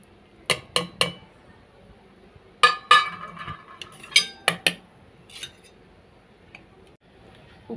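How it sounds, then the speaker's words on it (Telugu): Fried tomatoes and ivy gourd pieces go into a mixer jar for dondakaya chutney, giving several sharp metallic clinks of spoon and steel in short clustered bursts, close and fairly loud, with quiet pauses between. "ఇప్పుడు దీనిలో మనం వేపి పెట్టుకున్న టమాటోస్, దొండకాయ ముక్కలు కూడా దీనిలో వేసేసుకుంటాం."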